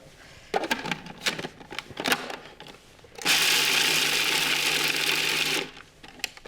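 Food processor whirring walnuts, pine nuts and garlic: after some clattering loading noises, a loud steady motor whir runs for about two and a half seconds, then cuts off abruptly.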